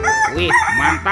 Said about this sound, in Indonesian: Wah, yang ini ada ayam berkokok.